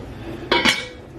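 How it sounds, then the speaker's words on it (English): A lid is set onto a cooking pot of water on the stove, giving two quick close metallic clanks in succession over a quiet kitchen background. "I just put the top on it so it'll boil faster."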